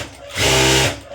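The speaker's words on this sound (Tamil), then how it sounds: "இந்த இடத்துல பார்த்தீங்கன்னா ஒரு பதிவு தையல் போட்டு எடுத்துக்கிறேன்" A sewing machine runs one loud, close burst of stitching on a puff sleeve seam, lasting about half a second as it whirs up and winds down.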